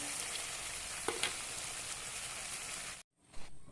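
Fried paneer pieces go into a hot pan of oil for chana dal, setting off a loud, dense sizzle with a couple of clacks, then a sudden cutoff and a short return of frying.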